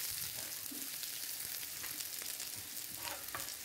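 Onion fries in a pan with curry leaves, a faint, even hiss of sizzling oil and occasional soft stirring bumps, quiet and continuous with no voices.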